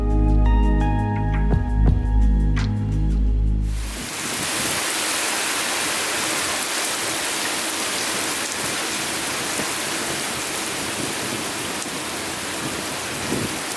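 A thunderstorm pours down on a cruise ship, the Excellence Princess, near Nuremberg, heard from outside under a roof: after a few seconds of music, a dense, loud, steady hiss of heavy rain takes over.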